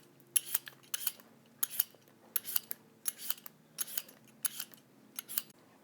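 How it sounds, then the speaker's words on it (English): A cucumber is peeled for gazpacho in about nine regular, crisp scraping strokes, each a short bright rasp with a tiny click, evenly spaced and close with quiet between them. "I'm going to go ahead and peel the cucumber just for a better texture in our finished soup."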